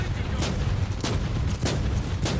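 Exodus rifle fire in Warhammer 40K: Inquisitor - Martyr, with four sharp, evenly spaced reports about half a second apart, loud over a dense rumbling battle bed.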